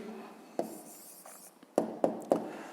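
A pen writes out the answer to a fifth-grade maths exercise on paper, giving soft scratchy strokes with a few sharper taps as the pen touches down, close and quiet, with no talking.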